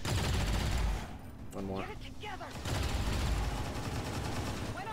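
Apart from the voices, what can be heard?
gunfire from rapid fire ability in video game XCOM 2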